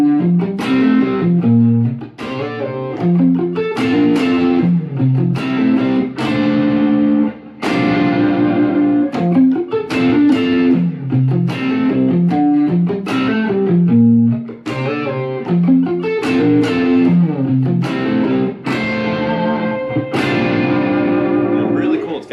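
Electric guitar plays a passage from a song from an album, loud and close, with chord stabs, sustained notes and echo-laden effects through a continuous, rhythmic phrase.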